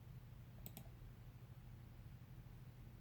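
A computer mouse clicks twice in quick succession, faint and close, over a steady low room hum with no voices.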